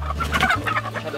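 Atak laying hens clucking close by, a busy, continuous run of short clucks with a low steady hum underneath.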